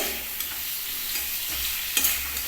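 Fish fries in oil in a pan, a soft continuous sizzle with a few light stirring taps, close and fairly quiet, no voices.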